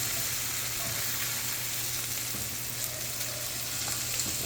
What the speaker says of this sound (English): Got those vegetables cooking up there now.